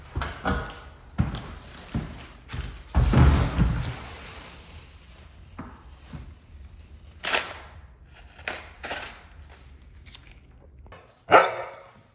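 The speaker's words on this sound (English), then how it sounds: "So these are my customers' dogs." Several customers' dogs bark in short, separated bursts indoors in a house during room painting, with sharp loud barks spread across the stretch and a final strong burst near the end.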